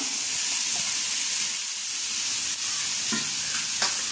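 Cooked rice being stirred into vegetable masala in a hot pan, with a steady sizzle and frying hiss throughout, broken by occasional scraping clinks of the spoon.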